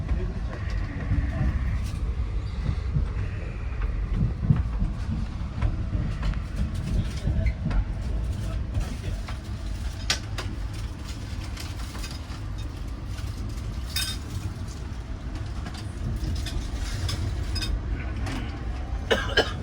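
Rajdhani Express rolling into Kumta railway station, a steady low rumble of carriages with faint clicks and rattles running throughout, heard from on board at moderate loudness.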